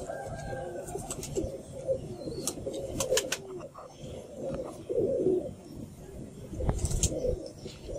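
Pigeons coo softly and repeatedly at close range, with chirps and other bird calls scattered through the scene, while handling noises and faint voices run in the background.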